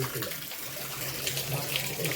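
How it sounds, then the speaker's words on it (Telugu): Steady rushing water with a broad hiss, like heavy rain pouring and runoff flowing, continuous and fairly close throughout. "వర్షం బాగా వర్షం నీళ్ళు అలా వస్తున్నాయి"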